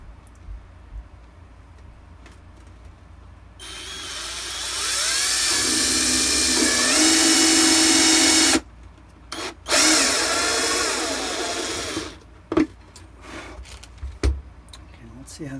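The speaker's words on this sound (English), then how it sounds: "And then I'll drill through both pieces of plastic and put a rivet in there." A power drill bores through two stacked pieces of plastic armour for a Shadow Trooper costume, a loud whining buzz lasting about five seconds with a shorter burst after, surrounded by quieter handling clicks and light talk.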